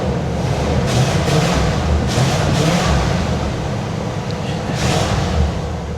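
A 1979 Cadillac DeVille engine running smoothly after a carburetor swap, a loud, close, steady rumble with a deep low-end drone and slight swells in revs, no talking over it.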